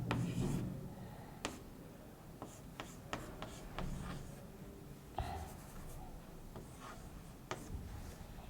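Chalk or marker scratching across a board during a lecture on Hamiltonian Monte Carlo sampling, with short irregular strokes and taps, fairly quiet and close, without talk over it.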